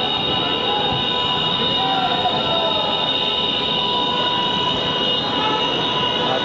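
A Pune Metro train runs at speed, giving a loud, continuous rumble of wheels on rails with a steady high whine, heard from inside the car with no pauses.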